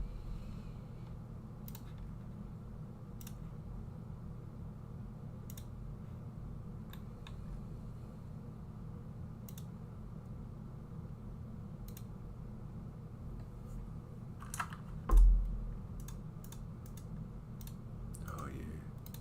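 Sparse clicks and presses on computer keys over a low background hum, with one louder bump near the end and a quick cluster of clicks after it.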